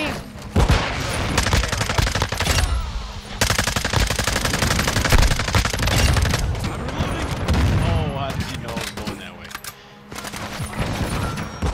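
Video-game gunfire plays as loud, continuous bursts of rapid automatic shots, nearly unbroken across the stretch, with brief gaps and a player's voice underneath.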